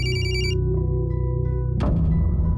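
A telephone call rings with a bright, pulsing tone for about half a second, followed by a lower sustained tone and a louder burst of sound.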